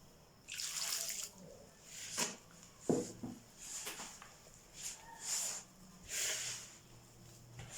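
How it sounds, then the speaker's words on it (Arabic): Warm water poured from a container into yeast and sugar in a bowl for bread dough, a faint uneven splashing and trickling in several short pours, close by with no talk. "وتوا باش نصبو الماء الدافي"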